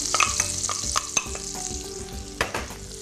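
Onion sizzling in melted butter in a pan for cranberry and apricot stuffing, with a steady close frying crackle broken by spoon scrapes and stirring knocks.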